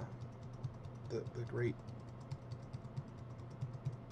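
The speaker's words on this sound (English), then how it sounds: "pounding the keyboard" Typing on a computer keyboard: steady, fairly quiet clicking keystrokes running throughout, with a brief stretch of speech over the tapping near the start.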